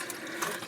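Water runs steadily through an opened valve into the hot water heater of a Rockwood Geo Pro 19FBS RV, a close, continuous rushing hiss with no talking.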